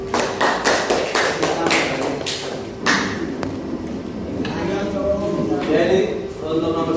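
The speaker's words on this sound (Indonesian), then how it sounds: "untuk kelompok 1 kita kasih tepuk tangan ya" A school class claps for group 1 during a maths lesson, a few seconds of sharp, uneven hand claps with scattered thuds, then fading into room noise under a teacher's voice.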